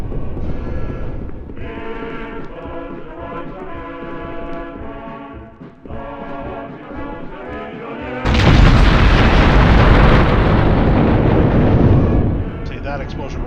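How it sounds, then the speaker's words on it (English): An explosion in Hidden & Dangerous with the Ultimate Overhaul mod bursts in partway through as a loud, roaring blast that lasts several seconds, following a stretch of tonal game sound. "See that explosion right there."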